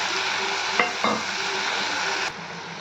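Fenugreek leaves, tomatoes and onions sizzle in a pan for menthi pachadi while a spoon stirs them, two quick scraping strokes over steady close frying that softens near the end, with no talk.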